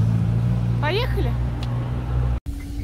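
Car driving through a city centre, a steady low engine and road rumble with no talk, cut by a brief dropout near the end.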